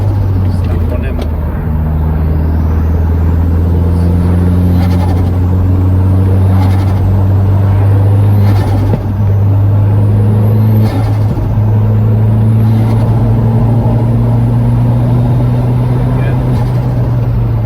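A Ford Escort van braking hard from 50 to bed in new pads and discs, heard from inside as a loud, steady engine and road drone with tones shifting as it slows, a voice talking over it.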